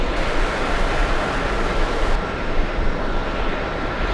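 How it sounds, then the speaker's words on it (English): British Airways Boeing 777 arriving from Gatwick at JFK airport, a steady broadband engine roar holding loud and even throughout with no voices. "Let's go over to the British Airways 777 as the camera focuses."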